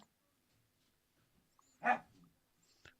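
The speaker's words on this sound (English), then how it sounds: "The dog's gone crazy." Dog giving a single sharp bark followed by a faint whimpering yip, near, with quiet stillness around it.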